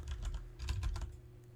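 Quick bursts of keystrokes on a computer keyboard, a cluster of clicks, a short pause, then another run of taps, close and moderately loud over a low steady hum.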